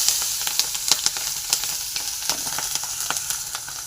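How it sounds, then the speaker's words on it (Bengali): Onions frying in hot oil for a spicy pangas fish curry, a close, continuous sizzle with crackling pops and soft scraping as they are stirred in the pan. "এবার আমি পেঁয়াজ ভেজে নেব"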